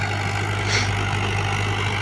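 A tractor engine runs steadily under load while pulling a rotavator through soft field ground near a drainage channel, giving a constant close mid-pitched drone.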